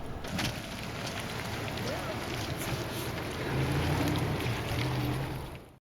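A human-powered ferry crosses into Belize in heavy weather, with steady wind and water noise roaring against the microphone throughout and a low rumble swelling midway before cutting off abruptly at the end.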